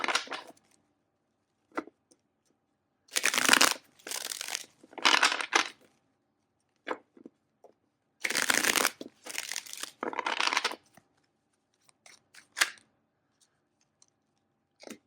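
A deck of tarot cards is shuffled in irregular bursts of close, crisp riffling and flicking, with quiet gaps and single soft card taps between the bursts.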